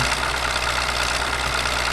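Continuous low tractor engine idle in Farming Simulator 2009, a dense even hum with a faint rhythmic throb, steady and close, with nobody speaking.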